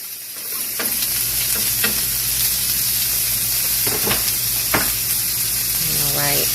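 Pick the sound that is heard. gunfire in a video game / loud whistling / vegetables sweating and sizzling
vegetables sweating and sizzling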